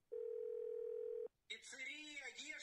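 Telephone dial tone, a single steady pure tone lasting about a second before cutting off, followed after a short gap by a voice speaking, heard while calling to order pizza.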